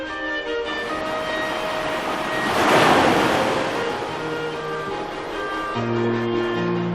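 Ocean waves wash onto a beach on the west coast of Mahé in the Seychelles, a steady surf hiss that swells into one louder breaking wave midway before easing back, with some wind.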